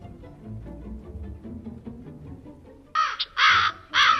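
A raven caws during a reading of a poem about a raven: after low rumbling, three harsh, loud caws come close together near the end.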